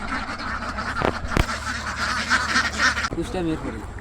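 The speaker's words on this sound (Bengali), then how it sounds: "এখানে ছয়শো হাঁস আছে" A flock of about six hundred ducks on a farm quacks continuously at close range, a dense chorus of overlapping calls with a voice briefly heard near the end.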